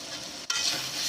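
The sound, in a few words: stirring prawn malai curry sizzling in the pan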